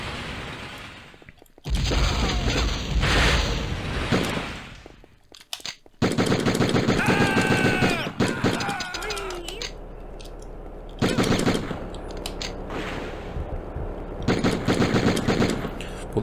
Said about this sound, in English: Those explosive, like, rocket bullets are pretty good.